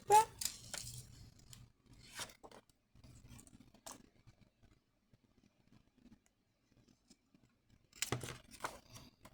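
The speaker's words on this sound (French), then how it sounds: "Je coupe." Scissors cut paper for a handmade sliding card in a few bursts of crisp close snips, separated by quieter pauses with faint rustling.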